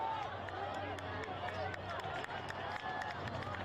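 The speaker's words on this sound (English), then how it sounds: "Hearing cheering almost with each touch." Crowd cheering at a high school prep soccer match between Brother Martin and Jesuit, a steady, dense roar of many voices with claps and shouts, continuous and moderately distant throughout.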